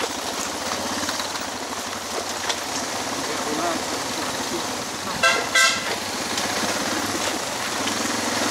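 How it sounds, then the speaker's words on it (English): A Suzuki DR650 motorcycle horn gives a short burst of beeps, heard over a running engine and wind noise on a dirt trail. "the horn."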